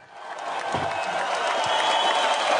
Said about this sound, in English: Just go ahead and put the applause in.